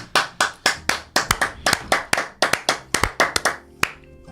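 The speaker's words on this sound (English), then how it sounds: "Thank you for joining me in my clap." A few people clap their hands in an irregular, close patter of sharp individual claps that thins out to a last lone clap, with no talking.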